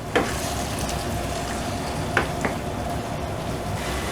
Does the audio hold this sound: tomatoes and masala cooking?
yes